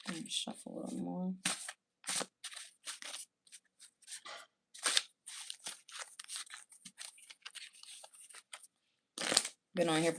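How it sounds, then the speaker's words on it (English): A deck of playing cards is shuffled close by in repeated crisp riffles, with a person talking over much of it between the shuffles. "Let me shuffle a little more."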